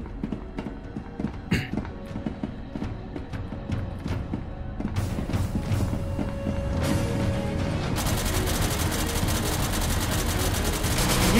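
Gunfire in the video game SCP: Secret Laboratory, scattered sharp shots at first, then heavier continuous automatic fire building toward the end, with game noise under it.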